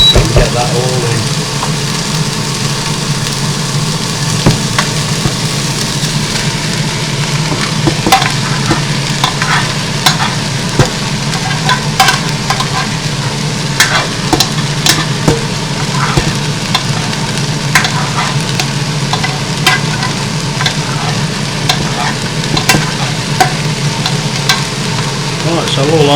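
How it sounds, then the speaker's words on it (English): Food stir-fried in a pan, with a steady sizzle and frying hiss throughout and repeated scraping and clattering stirs over it, close and fairly loud, with no talk. "all I'll do now is cook this through for a few minutes and then get my eggs in there"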